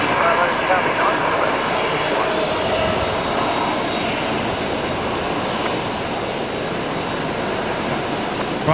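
A Qantas airliner on very short final landing at Brisbane Airport gives a steady, broad jet engine roar that holds at an even level throughout, with a voice talking over it.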